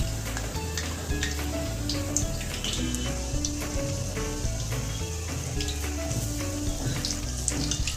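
Steady, dense sizzling of vadas deep frying in hot oil over medium heat, continuous and close, with faint clinks over a low background hum.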